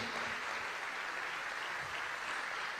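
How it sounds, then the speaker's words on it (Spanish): A congregation claps during a church service led by Pastor Ruben Ruiz, a faint, even wash of applause heard from a distance without a break. "Bien fuerte ese aplauso"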